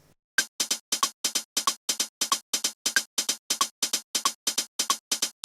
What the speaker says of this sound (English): Sixteenth note swing means we separate each 8th note from the first note unevenly.